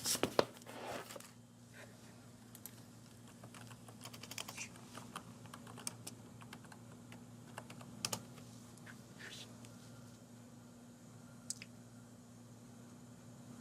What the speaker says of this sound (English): So I'm gonna type this address.